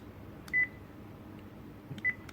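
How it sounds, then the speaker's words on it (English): Two short electronic beeps from a Sony ICD-PX370 voice recorder, a single tone each, spaced about a second and a half apart over a quiet background hiss. "Now I do have a beep"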